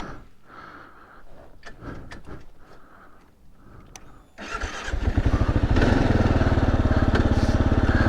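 A 2024 Kawasaki KLR 650 motorcycle stalled beside a rock on a trail, with brief clunks and shuffling before the single-cylinder engine is restarted and settles into a loud, steady close-range idle.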